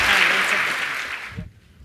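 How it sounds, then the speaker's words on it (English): Group applause at an entrepreneur jiu-jitsu class: a dense burst of clapping that holds steady, then cuts off abruptly near the end of the short clip. "Round of applause for the champ here."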